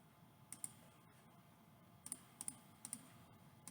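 Scattered computer keyboard keystrokes while entering hack codes for Super Mario Galaxy on a console, a few quiet isolated clicks in small clusters against faint room hiss.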